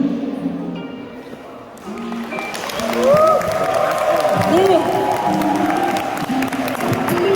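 An audience applauds and cheers after a Korean reading play about the brother and sister who became the sun and moon, with clapping running under a host's voice across the whole stretch.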